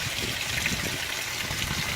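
A 2017 Speed Queen washing machine rinses flannel sheets, with a steady trickle and wash of water running continuously, moderately close and fairly quiet, with no talk.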